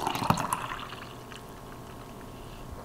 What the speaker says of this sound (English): I'm gonna pour it in this glass here.